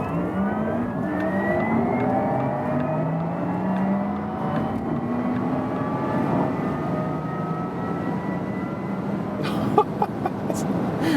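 A Porsche Taycan Turbo S electric car accelerating hard from low speed, its rising electric whine sweeping steadily upward in pitch inside the cabin, with a few sharp knocks near the end.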